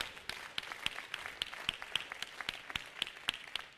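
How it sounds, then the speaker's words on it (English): A church congregation claps in a fairly small, sparse group, with distinct individual claps ringing out at a loose, irregular rhythm, moderately quiet and without speech. "Let's clap for Jesus once again."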